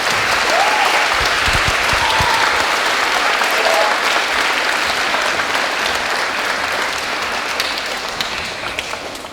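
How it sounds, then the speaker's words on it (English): A school audience at a Memorial Day program gives the students a dense, sustained round of applause, loud and steady before tapering slightly toward the end. "So give them a nice round of applause"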